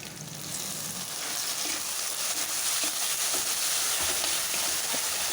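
Fish curry masala sautéing in a pan with kudampuli, a dense, loud, steady sizzle and crackle that builds slightly and holds with faint stirring scrapes underneath.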